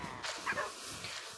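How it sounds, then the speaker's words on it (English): Tamed wolves in Minecraft bark and yip in a quick cluster of short calls, moderately close, over a steady game background with no talk. "So, I guess the army of dogs are following me up."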